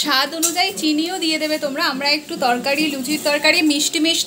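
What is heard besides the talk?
None of the usual background noises is heard.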